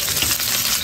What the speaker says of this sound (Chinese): 倒油，油中下葱花蒜片